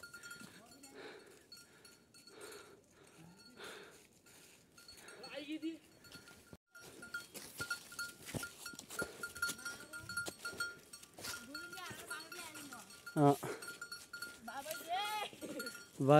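A lone goat bleats repeatedly in a jungle, its calls scattered among rustling and handling noises, with people talking nearby and a cowbell-like clank in places.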